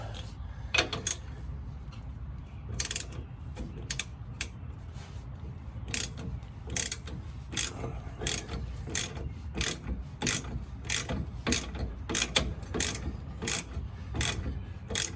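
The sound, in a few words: ratchet wrench removing Chevrolet Silverado shock absorber bolts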